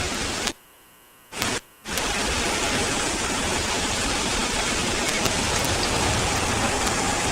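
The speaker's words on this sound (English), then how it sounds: "Can you guys hear the rain in the background?" Steady rain pours throughout, a dense hiss of drops on a surface with a brief near-silent gap early on, loud and continuous with no talk.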